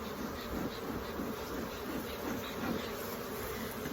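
Honeybees buzzing around a hive, a dense, steady hum of many bees close by, continuous and unbroken.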